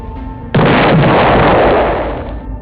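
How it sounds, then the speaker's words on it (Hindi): In an animated horror story an RPG fires with a sudden loud blast that cuts in sharply, then a dense roaring burst that fades out over about two seconds. "टकला नेता अपने आरपीजी से फायर करता है।"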